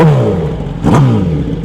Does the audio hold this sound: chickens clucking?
no